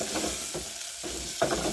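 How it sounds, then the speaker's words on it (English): Beef sizzling and frying in a hot pan until brown, with a few stirring scrapes breaking up the steady crackle. "fry your meat until it turns brown."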